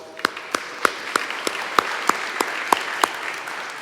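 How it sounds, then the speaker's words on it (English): Sparse, slow clapping at a community violence prevention coalition meeting welcoming the Deputy Mayor, about ten distinct claps at a steady rhythm, close and clear, with no talking over them. "Let's give her a big round of applause."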